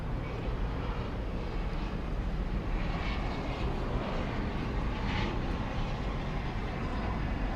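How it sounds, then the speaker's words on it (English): A CRJ 701 regional airliner arriving from Gulfport comes in to land at DFW airport at night, a steady broadband jet roar that holds loud and even throughout, with no voices. "We'll get to see this CRJ 701 coming in from Gulfport."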